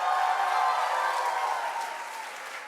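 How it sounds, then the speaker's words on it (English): An audience claps loudly and continuously after a Nepali dance performance by the Lekali Nepali group, a dense wash of applause that slowly tapers off toward the end. "Let's give them another round of applause."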